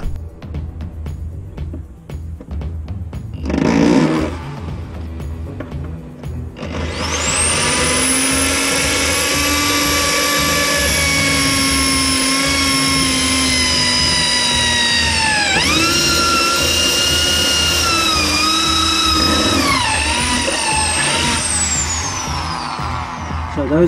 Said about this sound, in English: So then I use a bigger drill, and I'm going to do the same at the top.